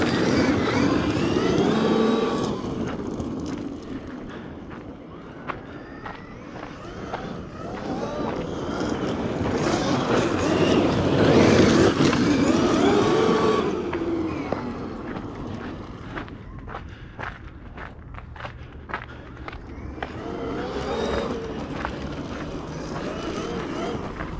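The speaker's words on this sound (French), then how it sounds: "on va finir la batterie en mettant du gaz" An RC car on a pile of rocks driven at full throttle to run down its battery, its motor whining and rising in waves under steady wind noise, with a voice talking at times.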